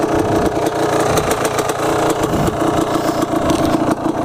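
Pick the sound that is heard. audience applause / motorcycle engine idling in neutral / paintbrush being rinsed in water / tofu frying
motorcycle engine idling in neutral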